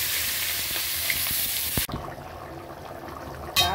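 Cumin seeds tempering in hot oil for a home-cooked dish, a loud, close, steady sizzle that cuts off sharply about halfway through, leaving a quieter crackle until a final burst.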